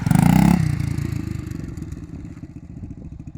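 Aprilia Tuareg 350cc motorcycle engine revs loudly up close, then drops back to a lumpy, throbbing idle that slowly fades.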